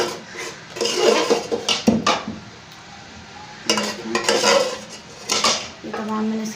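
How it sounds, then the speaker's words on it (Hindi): A spoon scrapes and knocks against a pressure cooker while a haleem mixture of grain and lentils is stirred, in two bursts of clattering metal with a short quiet pause between. "ये तमाम मैंने इसके अंदर डाला, इसको ऐसे हिलाया"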